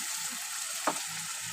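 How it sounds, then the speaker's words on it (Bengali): Spice paste for Bengali tengra fish curry frying in a pan, a steady broad sizzling hiss with a single brief scrape partway through, close and fairly even. "চলো বেশ ভালো করে মশলাটা কষিয়ে নিই।"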